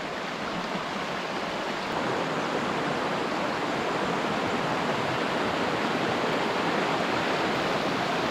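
Creek water rushes steadily in the Salmo Priest Wilderness of northeast Washington, a dense, continuous broadband roar close by with no pauses and no voices.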